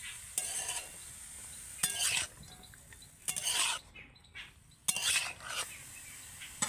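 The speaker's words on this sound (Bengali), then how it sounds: "এবার আমি ভালো করে নেড়ে চেড়ে নেব" A spatula scrapes and stirs ash gourd in a cooking pan in four distinct bursts of clattering strokes, close and fairly loud, with quiet pauses between.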